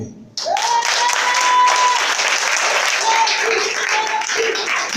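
A church congregation breaks into loud, sustained applause, a dense wash of clapping that starts abruptly and holds steady, with a faint voice or tone rising above it at moments.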